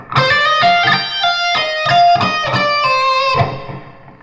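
Distorted electric guitar plays solo licks, a quick run of sustained, singing notes with bends and pull-offs that fill the clip loudly and alone, then ring out near the end.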